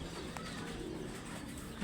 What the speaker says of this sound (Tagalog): Dami nilang kalapati